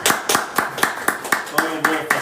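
Rhythmic group clapping at a church class, sharp and close, about nine regular claps in a steady beat, with faint voices underneath.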